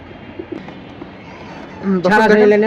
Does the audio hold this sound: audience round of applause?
no